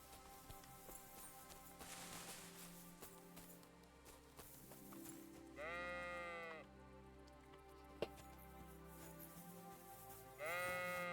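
Sheep bleating in the video game Kingdom Come: Deliverance II, two drawn-out bleats some seconds apart rising over soft rain, ambient music and faint hoof clops.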